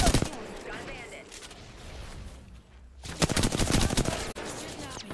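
Rapid automatic gunfire in the battle royale shooter Apex Legends, loud sustained bursts at the start, a brief lull with quieter action, then a second dense volley of close shots, with a voice speaking over it.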